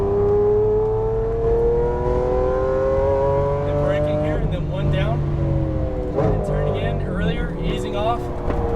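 A Lamborghini Aventador LP700-4 accelerates on a race track, its engine note climbing steadily in pitch with gear-change dips, loud and close from inside the car while an instructor talks over it.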